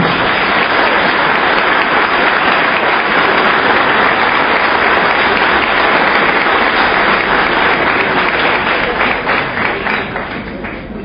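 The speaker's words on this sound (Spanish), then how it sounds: "recibir al doctor Pedro Pablo Kuczynski, para quien pedimos un sonoro y cálido aplauso." A large audience at a lecture event on Peru's challenges gives loud, sustained applause to welcome former Peruvian figure Pedro Pablo Kuczynski, a dense steady roar of clapping that thins slightly near the end.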